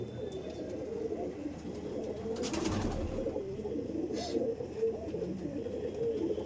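A black-eyed pigeon coos in a continuous low murmur, steady and fairly faint, with soft chirps and other birds faintly in the background.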